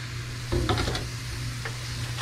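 String beans tipped into a hot pan for adobo sitaw give a steady sizzle over a low background hum, with a burst of clattering stirring in the middle and a few lighter scrapes later, no voices.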